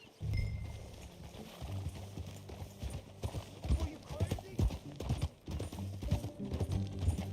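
Horse hooves clip-clop at a steady walk in the video game Red Dead Redemption 2, fairly quiet, under background noise and occasional voices.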